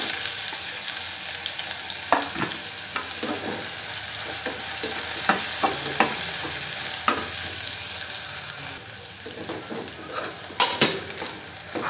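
Three medium chopped onions and two crushed garlic cloves fry in hot oil for dal, giving a steady close sizzle throughout, with occasional clinks and stirring scrapes of a utensil in the pan.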